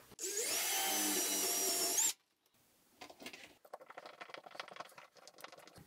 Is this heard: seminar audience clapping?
no